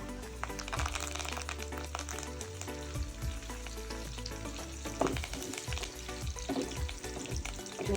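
Curry leaves crackle and sizzle loudly in a garlic tempering for village-style brinjal bharit, a dense, steady frying hiss with sharp pops and spatters throughout.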